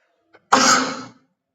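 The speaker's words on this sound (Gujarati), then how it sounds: "છીંકનો અવાજ આવે તો સોરી" A single sharp sneeze from a person with a cold, preceded by a faint quick inhale and then a short, forceful burst that trails off, heard alone in a quiet room.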